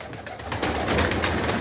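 Soft, low pigeon cooing, a short murmuring call close by over a steady background hum.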